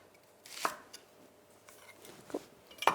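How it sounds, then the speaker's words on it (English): A sharp knife slices a shallot into thin rounds on a cutting board, a few crisp separate chops with quiet gaps between them, close and fairly soft, no talking. "you're going to cut your shallot into rondelles, so like thinly sliced round pieces of shallot"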